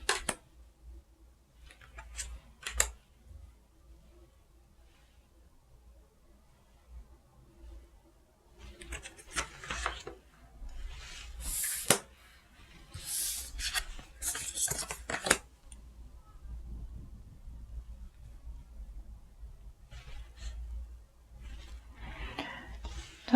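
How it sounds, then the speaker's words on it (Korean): Oracle cards being spread out on a table: soft, close sliding and tapping sounds come in scattered bursts over a quiet background, with clusters of quick papery flicks in the middle. "로맨스 엔젤 카드도 한 장 뽑아볼게요. 자, 카드 나열 해보도록"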